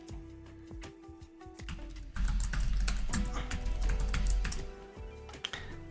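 Rapid clicking keystrokes on a computer keyboard as a name is typed in, a close, steady run of taps that thickens in the middle and then trails off into a few single presses.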